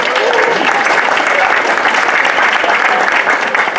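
Audience applauding and cheering at a farm-to-table dinner party, a dense, steady wash of clapping that holds loud throughout with crowd voices mixed in.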